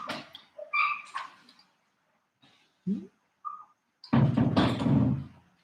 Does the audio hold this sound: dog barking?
yes